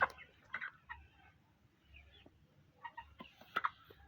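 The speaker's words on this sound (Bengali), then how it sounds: "মুরগিগুলো" Chickens on a poultry farm give a few soft, scattered clucks and short calls, fairly faint and spaced irregularly, with quiet background noise between them.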